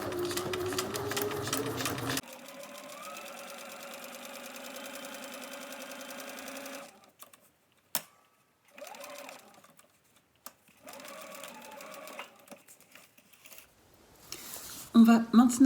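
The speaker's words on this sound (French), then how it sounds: "Et on va venir coudre au point droit" A sewing machine runs a straight stitch at 2.5 stitch length along a fold of fabric for a toothbrush pouch, first in one long steady whirring run and then in several shorter bursts, with a voice and handling noise at the start.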